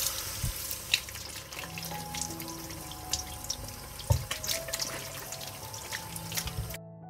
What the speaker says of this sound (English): First, I'll wash the tomatoes.